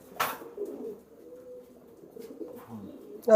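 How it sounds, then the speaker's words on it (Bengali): Shialkuti pigeons cooing softly nearby, a low murmuring coo lasting a few seconds after a short flutter-like noise at the start. "এ দুটো হলো শিয়ালকুটি কবুতর"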